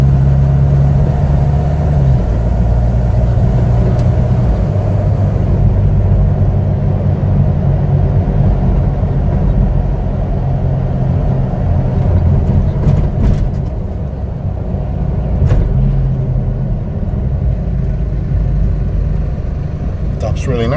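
Steady engine drone and road rumble from inside a 2020 Hino 195 refrigerated box truck as it drives and accelerates, a continuous low hum with occasional clicks and a shift in pitch midway.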